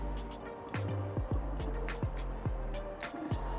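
Rinseless car wash pours from a bottle into an electric sprayer in a steady stream, with a repeated glugging gurgle as air bubbles back through the neck.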